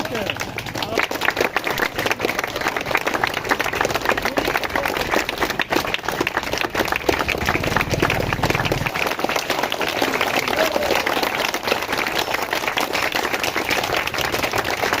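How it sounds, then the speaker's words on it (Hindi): Children and adults clap and applaud at a school Teacher's Day gathering, a dense steady patter of many hands lasting throughout, with a voice speaking over it. "जोर से तालियां बजाओ।"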